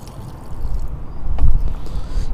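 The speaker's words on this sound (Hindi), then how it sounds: "ये लगभग 4 लीटर के अराउंड गौमूत्र है, तो इसको हम इसमें डाल देंगे।" About 4 litres of cow urine is poured into a container while mixing a homemade plant insecticide, making a steady, fairly loud gushing splash that swells toward the end.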